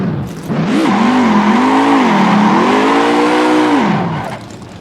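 A car accelerates with a loud, sustained tire squeal that rises and wavers in pitch for about four seconds over engine roar, then fades out.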